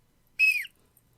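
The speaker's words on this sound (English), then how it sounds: "Sydney, I have a whistle!" A short, bright whistle blast lasting about a quarter second, loud and close, with a slight downward slide at the end and near silence around it.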